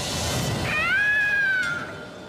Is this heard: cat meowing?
yes